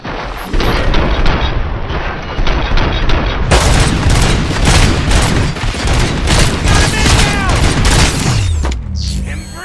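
Gunfire in the first-person shooter RoboCop: Rogue City, a loud, rapid barrage of shots and booms that starts abruptly and runs for several seconds, with faint voices mixed in, ending in a falling whine.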